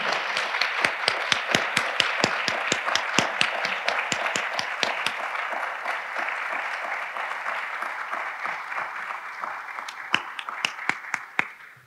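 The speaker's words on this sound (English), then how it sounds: "let's give them a round of applause for making today's lecture possible" Applause from a symposium lecture audience for Monica and Essel, a sustained bed of clapping punctuated by a regular run of sharp, close individual claps that continues for about twelve seconds, thinning slightly near the end.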